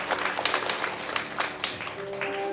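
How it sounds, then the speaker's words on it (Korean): Audience at a magic show event at a district office applauds an audience volunteer onto the stage, a modest, fairly distant patter of clapping that fades slightly toward the end. "뜨거운 박수로 무대 위로 모셔보도록 하겠습니다."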